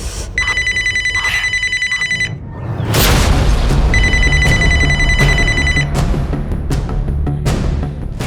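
A telephone bell rings loudly in two long bursts of rapid trilling, separated by a heavy boom and rumbling background noise.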